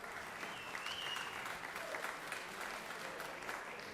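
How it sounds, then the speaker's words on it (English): Steady applause fills a Georgia State Senate chamber in an even, sustained wash of clapping from many hands, with faint voices beneath. "let's give him a round of applause right here"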